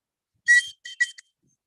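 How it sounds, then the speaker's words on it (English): A whistle carved from deer bone, blown in a long high shrill note followed by two shorter chirps and a tiny final peep, clear and close in an otherwise silent moment at a Chumash mission site. "this is a whistle that Levi was talking about, made from a deer bone"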